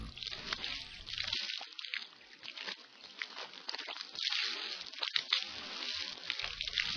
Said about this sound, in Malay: Sunat berkumur-kumur sebanyak tiga kali bagi membersihkan mulut daripada sisa-sisa makanan.